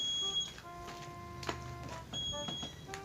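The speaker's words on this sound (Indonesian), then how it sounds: "dia akan bunyi seperti ini kalau mode sirine dinyalakan" A Bepro V17 Android motorcycle anti-theft alarm in siren mode gives faint, repeating electronic tones and beeps that rise and fall in pitch against low background noise.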